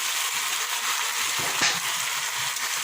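Potatoes fried earlier and now sautéed with meat in a pan in a village kitchen give a steady, close sizzling hiss that runs through the clip, with a few brief stirring scrapes in the middle.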